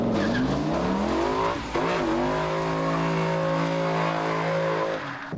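A Mustang serving as a mule car for the 2004 Shelby Cobra concept, running a test engine, drives past loud and close with a steady engine drone that briefly dips and rises, holding strong throughout.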